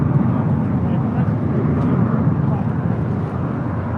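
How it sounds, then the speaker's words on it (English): A JetBlue Airbus A321 departing for Boston produces a loud, steady broadband jet roar at an airport, with wind buffeting the microphone and a voice talking over it. "This departure is JetBlue Airways 1388 departing to Boston on an A321."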